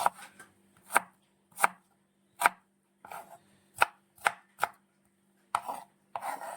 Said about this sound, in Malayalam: ഈ പരുവത്തിന് നമുക്ക് സവാള നമുക്ക് അരിഞ്ഞെടുക്കാം